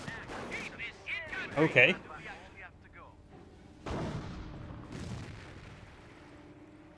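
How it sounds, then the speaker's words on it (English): Rifle grenades and other weapons fire in the World War II strategy game Company of Heroes, with booming blasts and crackling shots at mid distance, mixed with game voices and a brief spoken word. "It looks like these guys are firing off rifle grenades against the aircraft."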